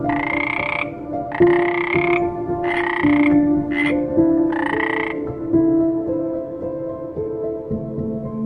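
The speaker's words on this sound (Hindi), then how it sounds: "A frog catches insects with its sticky tongue." A frog croaks in loud, close, rasping bursts, five in a loose rhythm, over a sustained harmonic drone.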